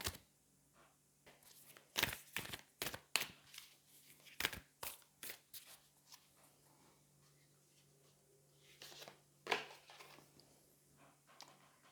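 Tarot cards are shuffled and drawn, giving a series of sharp, close, papery riffles and slaps in uneven bursts separated by near silence, with no talking.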